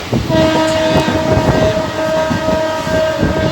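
Loud, steady rumble and rattle inside a moving Ranaghat local train carriage, with a sustained tonal whine running through the whole stretch.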